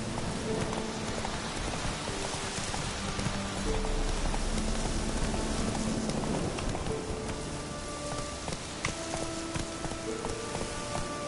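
Horse hooves beat in a rapid, continuous gallop in The Witcher 3 video game, a dense drumming under a steady rain-like hiss, with game music tones scattered above.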